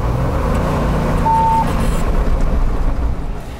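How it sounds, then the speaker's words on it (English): A vehicle's transmission whines and strains in reverse under steady engine noise, with a brief high beep partway through. "it just sounds real bad on the transmission"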